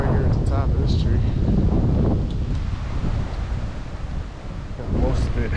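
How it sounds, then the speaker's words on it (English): Wind gusts across the top of a tree on a hill, a loud blustery rush with rustling that swells and eases, with someone speaking over it. "Wish the wind would stop for a couple of minutes"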